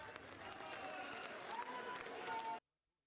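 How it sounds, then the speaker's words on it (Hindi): A large crowd applauds to welcome Yogi at a public rally in Siddharthnagar, a broad, steady roar of clapping with some voices mixed in, continuous for over two seconds before cutting off abruptly. "जोरदार तालियों से योगी जी का स्वागत करें।"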